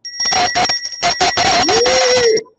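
A small bell rings in a rapid series of bright, close dings, the strikes tumbling together before fading out.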